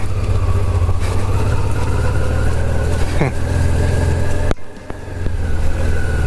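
A motorcycle ridden slowly through narrow village streets in Khmelnytskyi region, the engine chugging and rising in revs, briefly dipping around mid-clip before picking up again.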